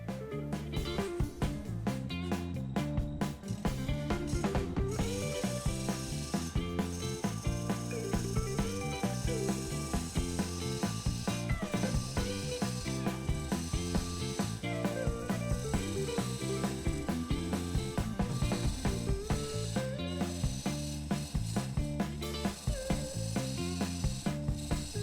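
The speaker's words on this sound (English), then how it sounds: "I'm going to put a little bit of a recess in here now, and that's the area that will be threaded." Lathe tool cutting a shallow recess into a spinning maple burl box, a steady scraping rasp over the hum of the lathe, close and continuous with no talking.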